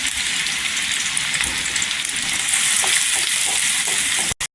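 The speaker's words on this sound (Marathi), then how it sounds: "छान असं कांदा पण गोल्डन कलर करून घ्यायचा." Onions sizzle and fry steadily with fresh curry leaves in a pan, a continuous close, loud crackling hiss that cuts off abruptly near the end.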